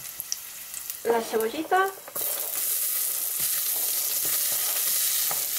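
Garlic fries in a hot pan as the base of a soy bolognese sauce, giving a steady, bright sizzle that runs to the end. A brief spoken phrase comes just before it.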